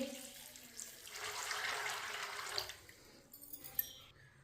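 Water poured into a cooking pot of washed black chickpeas: a soft, steady splashing rush swells for about two seconds, then tapers off with a few faint drips, close and alone.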